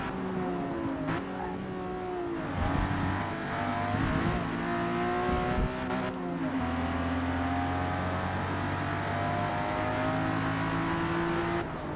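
A 6-cylinder muscle car in a racing video game revs and accelerates loudly, its engine note climbing and dropping through shifts with a steady, continuous drone close by.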